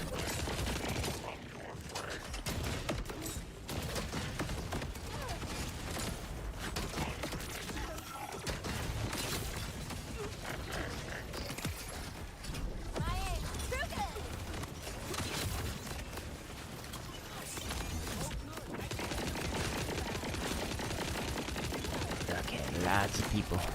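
Rapid game gunfire in Borderlands 4, aimed at crystals during a busy fight, with near-constant bursts of shots over a dense mix of combat effects for more than twenty seconds.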